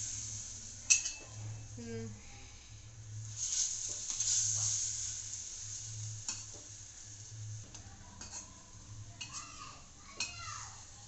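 Banana-mango sweet balls fry and are stirred in hot ghee, giving a soft steady sizzle with spoon scrapes and pan clinks throughout, under a low background hum and occasional faint voices.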